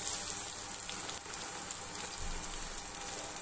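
Sliced onions sautéing in hot oil for a vegetable stew, heard as a steady, even crackling hiss like light rain, close and moderately soft, with no distinct stirring strokes.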